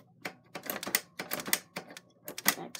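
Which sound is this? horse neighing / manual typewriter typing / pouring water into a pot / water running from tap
manual typewriter typing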